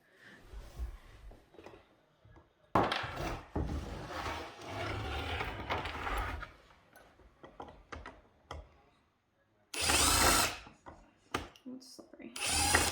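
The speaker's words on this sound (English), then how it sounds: "now we're going to drill through the plastic piece into these wood pieces" A power drill drives through a plastic piece into wood for a DIY treadmill desk, making several uneven whirring bursts with pauses and clicks between them, close and fairly loud.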